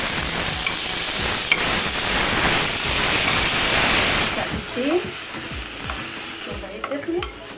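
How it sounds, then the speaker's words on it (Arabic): Rice frying and being stirred in a pan, a steady loud sizzle with scraping stirs that eases into quieter clinks and scrapes toward the end, with no talking. "الرز اهوت هنحطه نحمره"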